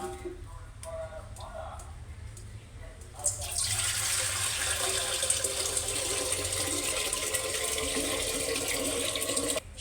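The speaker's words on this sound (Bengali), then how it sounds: "প্রথমত আমি শাকগুলোকে ধুয়ে নিচ্ছি।" Leafy greens rinsed under running water from a tap, a steady loud gush of water that starts abruptly after some quieter handling clatter and continues with a voice speaking softly over it.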